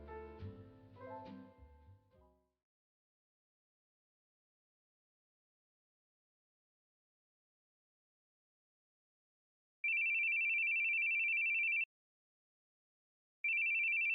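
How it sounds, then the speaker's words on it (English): A phone ringing in the video game The Boogie Man: after a short burst of other game sound, a steady electronic ring tone plays for about two seconds, then starts again after a short silence. "it's your phone."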